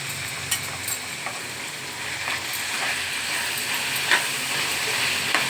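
Ginger paste sizzles steadily in a hot pan for a curry of raw cashews, with a continuous close frying hiss and occasional crackles and pops, with no one talking.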